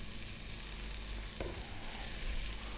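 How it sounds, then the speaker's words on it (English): Chopped onion, about a cup, frying in olive oil in a pan over above-medium heat gives a steady, close hiss and crackle with a brief clatter of stirring partway through. "I've got some olive oil in my pan here. We're on an above medium heat, and we're going to start off by dropping in the 1 cup of onion."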